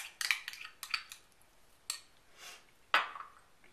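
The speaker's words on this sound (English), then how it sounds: "the next thing we're going to do is add our tomatoes" Tomatoes and onions dropped into a bowl of guacamole, a few light clinks and scrapes of a utensil against the bowl, irregular and close, with quiet gaps between.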